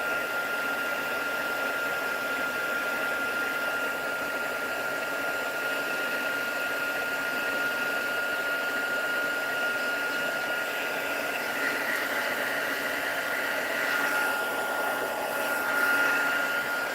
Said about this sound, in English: So I've got the heat tool on its highest setting.